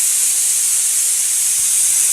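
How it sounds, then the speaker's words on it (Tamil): Steady loud hiss of steam escaping from a pressure cooker whistle on the stove while tomato kuzhambu cooks, a continuous bright rush with no pause or voices. "இப்போது இந்த குக்கர் 3 விசில் கொடுத்துருக்குங்க."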